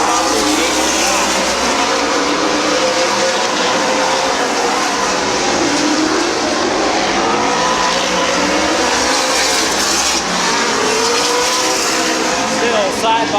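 Race cars run side by side at Midvale Speedway, engines droning loudly and continuously as they work through a turn, with a voice talking over the din.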